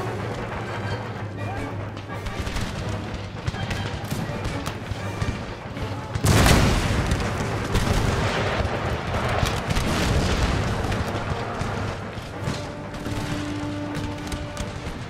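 Musket volleys and artillery booms from a battle in the video game Empire Total War, crackling fusillades and a heavy blast midway, heard beneath someone talking over the gameplay.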